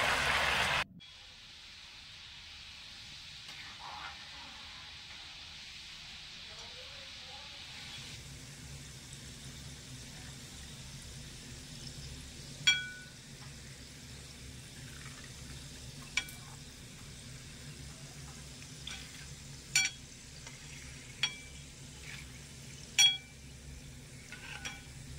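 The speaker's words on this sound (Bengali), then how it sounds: "আর বাদবাকি বোঁদেগুলো তেলে ছেড়ে দেব।" Semolina boondi droplets fry in a pan of hot oil with a soft, steady sizzling hiss, broken by occasional sharp clinks of a metal spoon or ladle against the pan.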